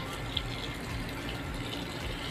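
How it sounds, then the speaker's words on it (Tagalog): Water poured steadily onto a potted eggplant plant in a garden, a continuous even splash and trickle close by with no break and no talking. "Diligin natin siya ng bongga-bongga."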